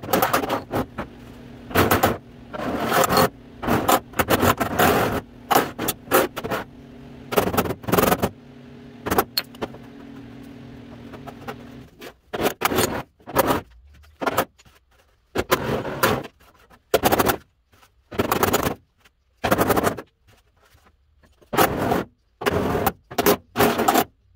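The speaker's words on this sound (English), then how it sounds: "I'm going to try to get this all kind of hammered back" A cracked classic car fender is hammered back toward straight, with sharp metal blows landing in irregular bursts, close and loud, and brief pauses between the groups of strikes.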